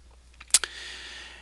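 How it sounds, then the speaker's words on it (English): A single mouse click opening a file during a software installation on a desktop computer, a short sharp tick standing out against a quiet room hum. "you want to click on open"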